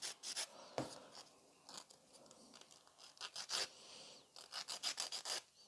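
Nail file thinning the free edge of a gel nail, a close rhythmic rasping in short back-and-forth strokes, with quicker bursts toward the end.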